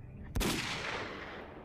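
A single loud sniper rifle shot in STALKER Call of Pripyat, a sharp crack followed by a long, fading rumbling echo.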